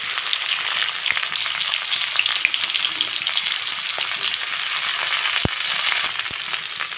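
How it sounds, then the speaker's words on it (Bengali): Chopped onion frying in a little oil in a wok, a steady close crackling sizzle with faint stirring scrapes throughout, no talking. "পেঁয়াজ কুচি দিয়ে দেবো"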